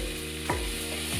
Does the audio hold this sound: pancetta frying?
yes